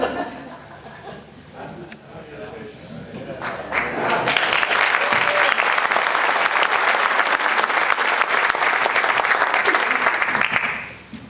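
An audience applauds a new mayor's first speech in Midland, the clapping swelling after a few seconds into loud, dense, sustained applause with a few chuckles, then tapering off near the end. Brief talk is heard before the applause builds.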